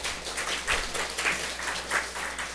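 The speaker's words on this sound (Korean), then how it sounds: "우리 중고등부 친구들 우리 박수 한번 합시다" Church congregation at a Sunday service clapping for the middle and high school youth group, a sustained even round of applause from many people, fairly soft and slightly distant.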